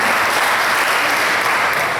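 A church congregation at a Pentecostal service applauding loudly, a dense, sustained wash of many hands clapping close and full throughout.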